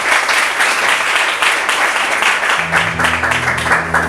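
Loud, dense clapping from a church congregation fills the space, with an organ-like tone entering underneath partway through.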